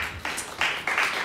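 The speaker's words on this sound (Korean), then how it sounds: "우리 예배를 받으신 하나님께 영광의 박수 올려드립시다" A short burst of applause from the congregation at a high school Sunday worship service in a church, a dense wash of hand claps swelling in waves, fairly close and without speech.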